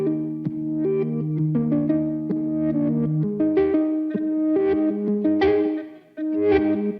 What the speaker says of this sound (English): I cut it up so that every single time a different chord plays, it plays forward then backwards